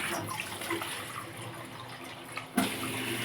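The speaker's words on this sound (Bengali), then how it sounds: "ভালো করে আমি ঠান্ডা জল দিয়ে ধুয়ে নিলাম" Cold water runs steadily from a tap while a batch of cooked, starchy food is rinsed in a kitchen for a milk sherbet, a continuous splashing wash with a brief louder surge near the end.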